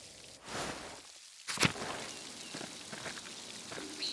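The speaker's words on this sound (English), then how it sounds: "I love that rain sound." Rain in the medieval video game Pentiment, a steady soft patter of drops on surfaces with a brief louder swish near the middle, continuous and fairly faint throughout.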